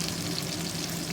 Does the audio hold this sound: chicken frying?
yes